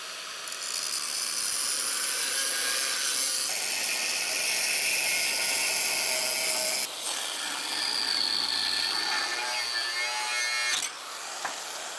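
A steel frame on a 1967-72 Chevrolet C10 pickup is cut through with a saw, giving a loud, continuous grinding whine that holds steady for most of the twelve seconds before dropping off near the end. No one speaks.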